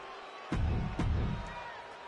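A wrestling crowd in the WWE 2K26 video game roars in two loud surges over a steady arena murmur, with a faint voice underneath.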